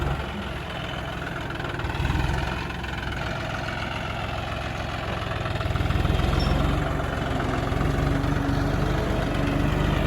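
John Deere 5040D farm tractor engine idling nearby, a steady low rumble with a slight rise in loudness partway through, alone without talk.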